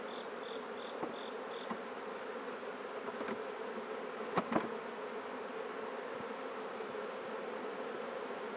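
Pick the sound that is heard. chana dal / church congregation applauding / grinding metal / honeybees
honeybees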